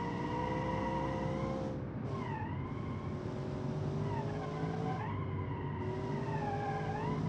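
A racing video game car accelerates with a steady engine drone and rising, sweeping tones, a loud continuous whine with shifting pitch that dips and climbs twice, with no talk over it.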